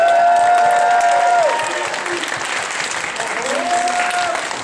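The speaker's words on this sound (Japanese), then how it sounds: "素晴らしいデモの作品を出してくれた、サブミットしてくれた方々にもう一度大きな拍手をお願いします。" Audience applause fills a hall at a demoscene festival prizegiving in Tokyo, a steady roar of clapping that eases partway through, while a sustained tone glides underneath.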